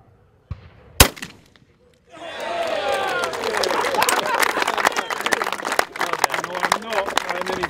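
One sharp, loud shotgun blast taken at very long range, about 130 yards, followed a second later by an outburst of cheering, clapping and excited voices from onlookers.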